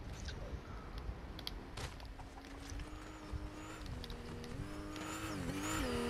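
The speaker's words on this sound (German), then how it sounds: "Seit wann können diese Autos so schnell auf Land fahren?" Cars in the Fortnite video game drive fast over land, a whining engine note rising and dipping in pitch as it speeds up, growing louder toward the end over some scattered knocks and clatter.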